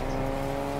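Inside a Fortnite match, a game car engine hums steadily at a constant, moderately loud level for under a second, with no talking.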